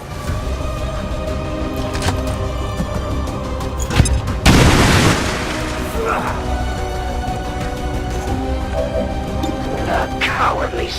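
A single loud grenade blast bursts out around the four-second mark in XCOM 2, a broad rumbling explosion that fades over about a second, set against steady game music and ambience with voices nearby.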